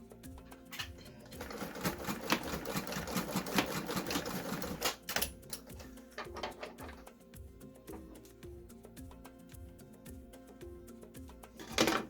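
A sewing machine runs a rapid back-stitch over the seam of a reusable fabric mask, a fast mechanical clatter for a few seconds, then sparse ticks and clicks at a faint, quiet level.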